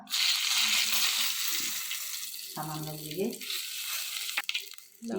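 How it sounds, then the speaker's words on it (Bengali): Garlic paste frying and being stirred in a pan gives a loud hiss that settles into a softer sizzle, with a voice speaking briefly over it. "রসুন পেস্টটা দিয়ে একটু প্রথমে নাড়াচড়া করবো"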